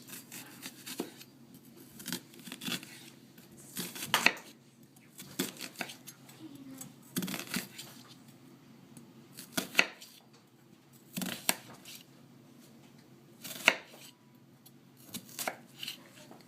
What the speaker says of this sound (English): I'm going to cut in to the root. See, I have my thin slices here.